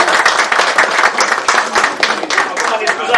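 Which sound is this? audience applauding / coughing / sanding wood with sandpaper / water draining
audience applauding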